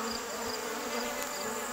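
Bees from a hive that was moved overnight, buzzing as a steady, continuous drone of wings close by, with no voices over it.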